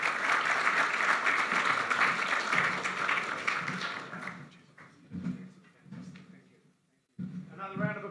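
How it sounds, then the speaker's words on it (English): An audience at a chamber of commerce gathering gives loud, dense applause after a talk; the clapping thins and fades after about four seconds, and a voice then speaks over the quieter room. "Another round of applause for John"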